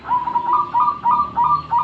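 A zebra dove coos in a repeated soft rhythmic phrase, several mellow warbling notes in quick succession, fairly close and alone.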